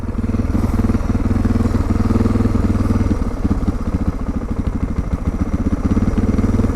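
A Suzuki DR650 single-cylinder motorcycle fitted with performance mods idles close by, its engine at operating temperature. A steady, loud, rapid thumping runs throughout with a slight irregular loping and no stall.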